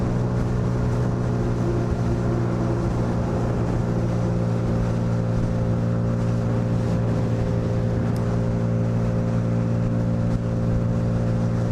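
A Lexmoto Vendetta 250cc motorcycle cruising at about 70 mph and 7,000 RPM, with a loud, steady engine drone and strong harmonic hum running unbroken throughout, mixed with wind rush.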